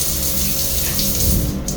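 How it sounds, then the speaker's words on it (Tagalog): Strong, steady rush of water pouring from a newly repaired household shower, loud and close, continuous broadband spray with no talking. "Lakas na ng tubig."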